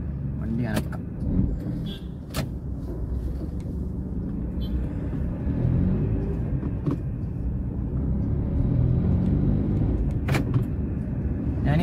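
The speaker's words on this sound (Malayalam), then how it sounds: "നമുക്ക് ആദ്യമേ വണ്ടി ഒന്ന് സ്റ്റാർട്ട് ചെയ്ത് പോവാം." An Uber taxi car in Kochi, between Palarivattam and Thammanam, is started and pulls away, its low engine rumble steady and close inside the cabin, punctuated by a few clicks, while a person talks over it.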